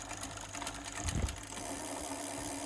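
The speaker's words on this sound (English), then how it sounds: "those are my wheel bearings." Worn bicycle wheel bearings spin with a quiet, continuous grinding whir and fine rapid ticking, and a soft low thump comes midway.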